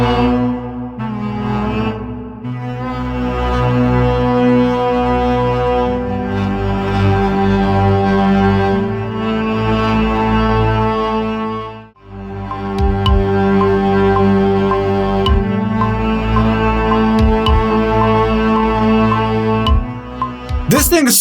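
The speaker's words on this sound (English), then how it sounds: "we're gonna record this kind of heavy pad. Starts with a key B." A heavy, sustained synthesizer pad chord rooted on B, thick and droning with layered tones, swelling for several seconds, dipping briefly, then returning as the chords shift, loud and alone.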